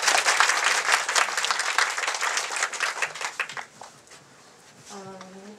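Applause from an audience at a book launch press conference, a dense steady clapping that fades over several seconds before a voice begins speaking at the end.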